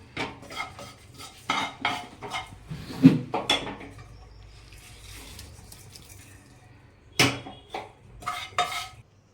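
Metal spoon scraping and clinking against a pan and plate in short bursts as roasted sesame seeds and dabeli spices are transferred, with quiet pauses between, close by.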